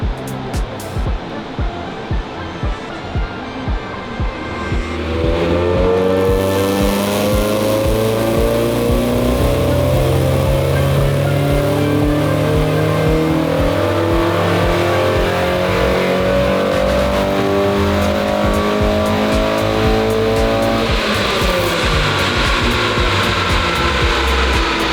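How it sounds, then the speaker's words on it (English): A 32-year-old NA6 Mazda Miata race car engine on a dyno, at a standstill, revs steadily upward through its range, the pitch climbing and holding high for a long, continuous run. "hear the car rev like all the way through the rev range on a standstill"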